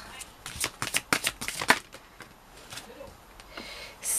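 Tarot cards being handled and shuffled, a quick run of crisp riffling and slapping bursts close up over the first two seconds, then quieter, sparser card movements with a faint voice in the background.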